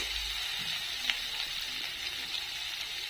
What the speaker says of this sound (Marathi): चला चांगलं परतून घेऊ आपण पण घ्यायचं चांगलं आपल्याला